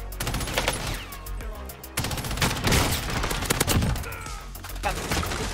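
Rapid, dense video-game gunfire rattles in continuous fusillade bursts, loud and close, with a short break near the middle before the shooting resumes.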